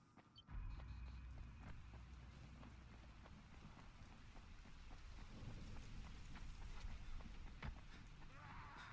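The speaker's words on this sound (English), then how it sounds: "It's raining." Steady heavy rain in the video game Dying Light, a dense continuous hiss with occasional low rumbles like distant thunder, filling the whole scene without talk.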